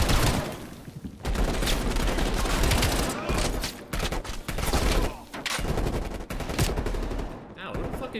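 Dense automatic gunfire and rapid bursts from the video game Black Ops Cold War campaign, loud and nearly continuous, with brief pauses between volleys and a few voices faintly mixed in.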